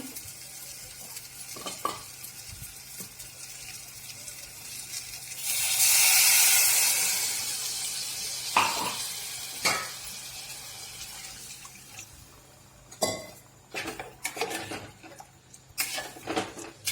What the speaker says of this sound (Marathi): ही अंडी मी 2 मिनिट मसाल्यामध्ये व्यवस्थित परतून घेते, घोळून घेते